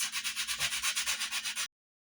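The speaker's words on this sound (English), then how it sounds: "I have coarse grit sandpaper, and so we're just gonna get to work smoothing out these edges." Coarse grit sandpaper rubs quickly back and forth along the edges of air dry clay, about a dozen rhythmic close scratchy strokes before stopping abruptly.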